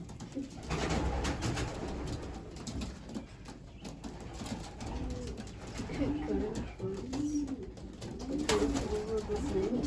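Several racing pigeons coo in a low, rolling rhythm close by in a loft, their calls repeating and overlapping, with soft rustling in the background.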